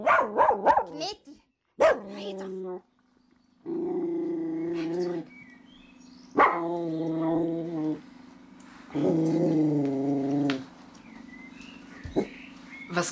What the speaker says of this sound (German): Was glauben Sie, warum der Hund so bellt?